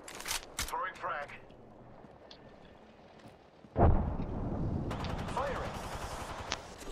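A frag grenade in a video game goes off as one sharp, loud blast, and a rumbling crackle of combat noise follows. Brief electronic sounds come before it.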